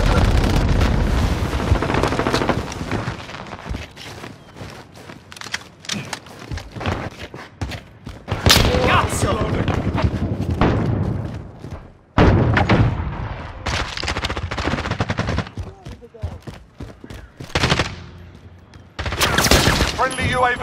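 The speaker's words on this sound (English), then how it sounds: "Throwing grenade!" Call of Duty: Modern Warfare combat, with a thrown grenade exploding amid dense, sustained gunfire, loud and continuous with booms. Voices talk over the battle.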